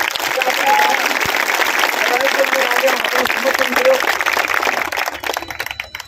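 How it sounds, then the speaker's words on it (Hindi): Loud, dense applause from a crowd at a gathering celebrating the release of arrested electricity-movement activists, sustained clapping near and close that thins out in the final seconds, with faint voices beneath. "वो जोरदार ताली के साथ मनोबल आपने बढ़ाना चाहिए"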